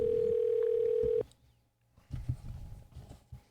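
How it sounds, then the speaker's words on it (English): A phone call placed to a wild rice business in Moose Lake, Minnesota, opening on a loud, steady telephone tone that cuts off abruptly after about a second, followed by a near-silent pause and then rustling, clattering activity. "Let's get Moose Lake wild rice on the phone."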